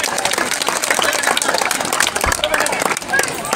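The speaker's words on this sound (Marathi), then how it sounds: "म्हणून आलेल्या स्टेजवर प्रत्येक मुलासाठी जोरदार टाळ्या वाजवून त्यांचं आपण स्वागत करूया" An audience at a Shivaji Jayanti celebration in Banali gives children coming on stage loud, dense applause, with steady clapping and crowd noise filling the whole moment.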